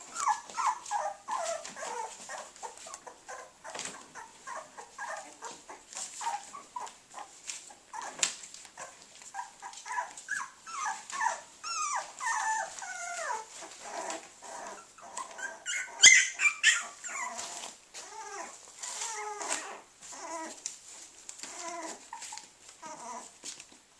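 Puppies a little over three weeks old whimper and squeal in a constant overlapping chorus of high, thin cries, close by and fairly soft, with a few sharper yips.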